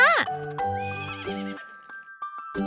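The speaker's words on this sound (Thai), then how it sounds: "ม้าร้อง" A horse gives a loud, close whinny that rises and then trails off in shaky, wavering tones, followed by a few faint clicks and knocks.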